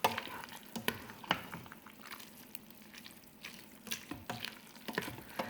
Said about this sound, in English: I'm just going to stir it around here. Mix all the meat and the sauce.